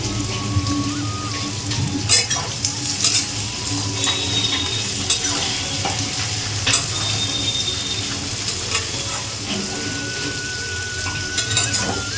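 Onions fry in a pan in a village kitchen, giving a loud, dense crackling sizzle like heavy rain that continues throughout, with occasional clatters of stirring.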